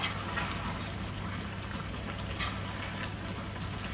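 Chili, ginger and garlic pickle cooking down in a pan, a soft steady bubbling and sizzling as the moisture cooks off, faint and continuous with a low hum beneath.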